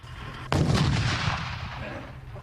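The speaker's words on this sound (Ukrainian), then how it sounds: "З цим легко упорається 23 міліметрова гармата, яка стоїть на Бредлі." One heavy shot from a Bradley armored vehicle's 23 mm autocannon booms out suddenly and fades into a long, rolling rumble.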